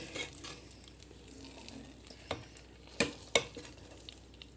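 Tadka tempering for Punjabi kadhi pakora sizzles steadily in the pan, with a few sharp clinks and spatters of utensils punctuating the low crackle near the end.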